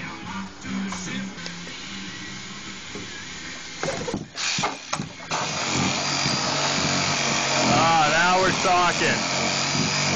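A Sawzall reciprocating saw starts up after some short bursts and then buzzes in a loud, continuous cutting run, with people talking over it.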